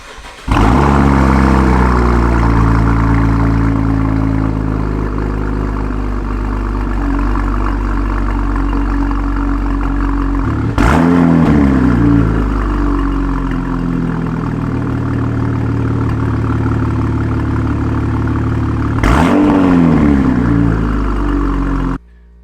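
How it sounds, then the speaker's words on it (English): A 2016 Cadillac ATS-V engine cold-starts and settles into a loud, steady idle close by, with two brief surges in engine note partway through. "this is a cold startup on an ATS-V 2016"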